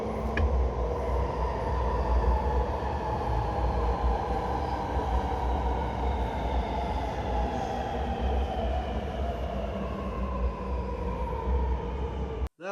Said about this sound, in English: The train to Tallawong is going to enter platform number 2.